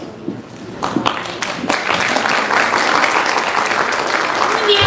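Audience applause at a children's school expo presentation swells from scattered claps into steady, dense clapping that fills the room and holds loud to the end.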